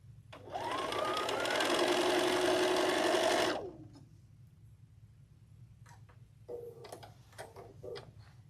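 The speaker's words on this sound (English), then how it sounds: "Let me sew this on" A sewing machine stitches quilting fabric in one fast, steady run of about three seconds, close and clear. Then it stops, and faint handling clicks and rustles follow.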